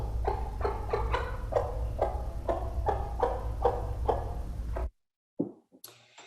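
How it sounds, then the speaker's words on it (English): A hen gives a rapid series of short, clucking feed calls, about ten evenly spaced pulses over a low steady hum, then falls quiet. "the maternal feed call sounds like this."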